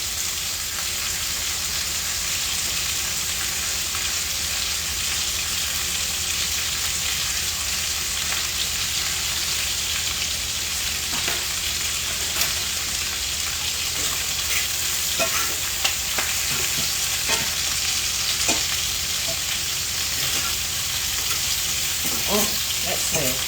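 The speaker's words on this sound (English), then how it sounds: "green peppers in here. A little bit sauteed up." Green peppers sautéing in a pan give a steady, even sizzle throughout, with occasional light stirring scrapes and clicks toward the end. It is moderately quiet and heard alone without talking.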